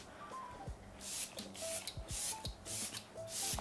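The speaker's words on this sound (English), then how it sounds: "I am personally gonna use a face spray" Several short bursts of Youth to the People Adaptogen Soothe and Hydrate face mist sprayed near the face, soft hissy puffs spaced about half a second apart, quiet and close.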